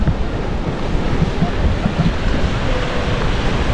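Sea waves wash against a rocky beach in Puerto Galera, Mindoro, a steady close roar of surf mixed with gusting wind noise on the microphone, no voices.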